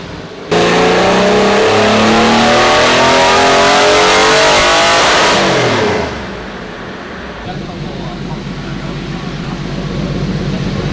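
A Porsche 964 engine revs hard on a dyno, with a loud rising howl that climbs for several seconds, then cuts off and drops back to a lower, steady drone and idle.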